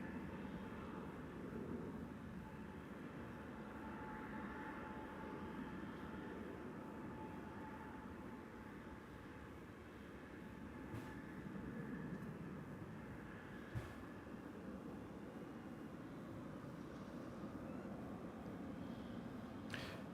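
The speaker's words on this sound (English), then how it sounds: "I hear another plane roaring off." Distant jet airliner roaring off on departure from DFW Airport at night, a steady broad rumble holding throughout without a clear peak, alone with no talk.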